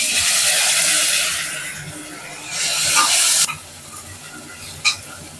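Ginger garlic paste sautés in a pan for a sour greens chicken gravy, a close, loud sizzle surging and fading as it is stirred, dropping sharply midway, then a brief hissing burst near the end.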